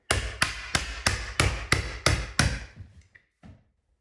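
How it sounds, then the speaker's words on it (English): A hammer strikes a chisel against wooden window trim on an off-grid cabin: eight steady, crisp taps close by at an even rhythm, then two fainter, softer knocks after a short pause. "I'm just going to take my chisel."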